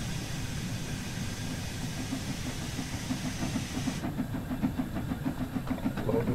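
An LMS Stanier 8F steam locomotive working uphill chuffs steadily with a hissing undertone, the rhythmic beats growing slightly louder and more distinct toward the end.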